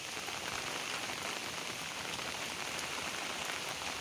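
Heavy, steady rain pours down during a days-long downpour in Rourkela, with a dense, continuous hiss of drops hitting surfaces close by that stays even throughout, with no voices.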